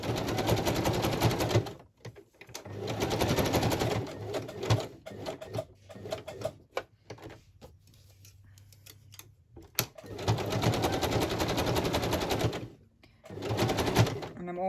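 A sewing machine stitches across stretchy fabric on a lace and fabric journal page, running in several sustained bursts with pauses and quieter handling between them.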